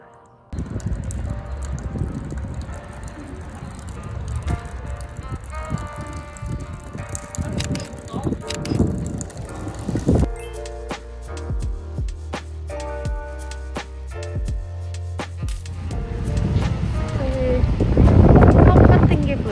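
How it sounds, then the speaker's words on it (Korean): Strong wind buffets the microphone on a sandy beach in Jeju, a steady roaring rush that swells louder toward the end, with people chatting over it. "바람이 너무 많이 불어."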